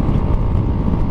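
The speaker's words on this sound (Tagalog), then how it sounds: "Ang lakas. Putik na hangin to." Strong gusty wind buffets the microphone during a motorcycle ride, a steady loud low roar with no break across the whole stretch.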